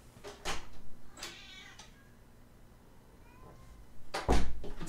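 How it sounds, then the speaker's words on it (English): A house cat meows to be let in through a door, giving a few brief cries between short bumps and knocks, with a louder thump near the end. "my cat is demanding entry."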